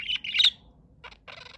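A pet budgie gives quick, bright chirps and twittering close by, in two short bursts separated by a brief pause, in a quiet room.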